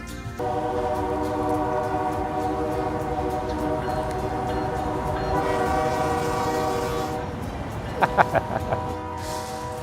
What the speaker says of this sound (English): I love the trains.